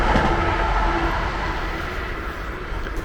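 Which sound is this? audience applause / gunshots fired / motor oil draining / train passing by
train passing by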